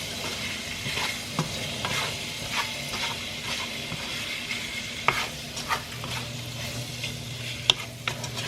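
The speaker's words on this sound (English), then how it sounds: "I'm going to let this kind of fry up a little bit" Seasoned food sizzling in a hot pan for a family dinner, a steady hiss and crackle broken by regular scrapes and clinks of a utensil stirring and turning the pieces.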